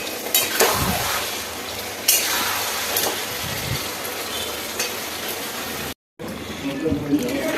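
Marinated dhaniya (coriander) chicken fries in a pan over a medium flame, giving a steady close sizzle with occasional stirring scrapes and clinks, broken by one brief gap near the end.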